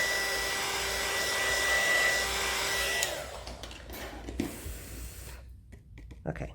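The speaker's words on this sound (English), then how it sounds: "let me shoot it with the heat gun real quick." A heat gun dries recycled plastic earrings: a loud, steady blowing roar runs for about three seconds, then cuts off and leaves quieter handling noises close by.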